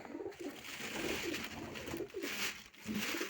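Two pigeons coo close by in a soft, repeated rhythm of low rolling calls, with faint background rustle.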